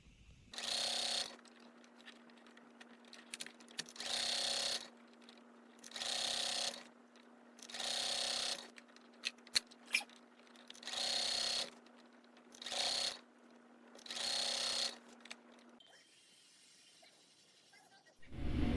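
A sewing machine stitches a seam while resizing a men's dress shirt, running in about seven short, even bursts with brief pauses between them, over a faint steady hum.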